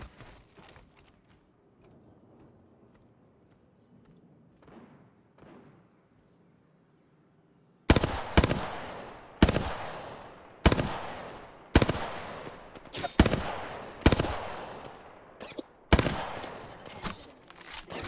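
Video game gunfire sits on a quiet, low background at first, then breaks into a string of loud, close bursts and single shots spaced roughly a second apart, with no talking.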